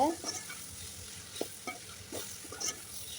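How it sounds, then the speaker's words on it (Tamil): Faint sizzling of okra frying in a pan, with soft scraping strokes of a spoon stirring at irregular intervals. "வெண்டங்காய் ஆட் பண்ணியாச்சு இப்போ வந்து நல்லா கலந்து விட்டுக்கோங்க"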